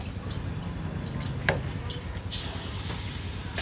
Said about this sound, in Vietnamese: cô chiên rất là giòn